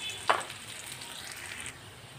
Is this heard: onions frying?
yes